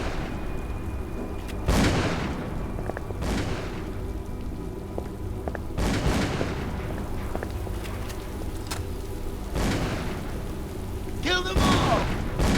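Gunfire and blasts in the video game Call of Cthulhu: Dark Corners of the Earth come as a few sharp, loud shots spaced several seconds apart over a rumbling, noisy backdrop.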